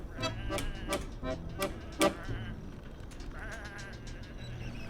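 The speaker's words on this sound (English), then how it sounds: "Come on, these are just sheep." Sheep bleat repeatedly in the video game Whateverland, several sharp, fairly close calls in an uneven rhythm over a steady ambient game background, with one louder bleat standing out near the middle.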